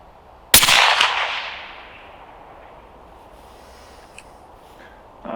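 A single loud rifle shot fired while zeroing a HikMicro Alpex A50T day/night scope, a sharp crack followed by a long fading echo, then near quiet with a couple of faint clicks.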